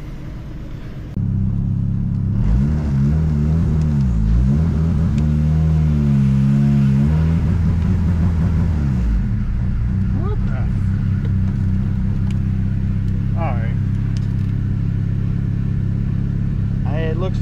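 A turbocharged Honda Civic D16 engine running on flex fuel, tuned on a Hondata s300, revs loudly up and down in repeated sweeps and then holds a heavy, steady drone, close by.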